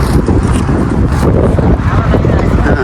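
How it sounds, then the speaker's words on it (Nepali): Strong wind buffets the microphone with loud, continuous low rumbling and gusty roaring, covering everything else. "हावा लागिरहेछ"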